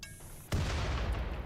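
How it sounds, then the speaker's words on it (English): An explosion in Rimworld bursts in suddenly after a quiet moment, then a loud rumbling roar of noise holds steadily to the end. "I heard an explosion."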